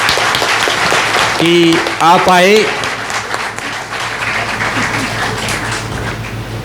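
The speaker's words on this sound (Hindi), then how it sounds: "भाई जो बैठे हुए हैं वो इनके लिए ताली बजा दे" An audience of seated attendees at a large talk applauds steadily through the whole stretch. Someone speaks over the clapping at the start.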